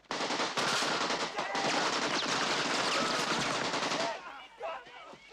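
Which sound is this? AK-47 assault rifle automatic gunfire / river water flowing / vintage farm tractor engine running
AK-47 assault rifle automatic gunfire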